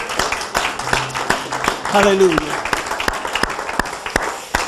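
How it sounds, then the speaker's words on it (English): A church congregation claps its hands in praise during a Sunday service, with scattered sharp claps throughout while a voice calls out over the clapping. "Give the Lord a hand clap of praise."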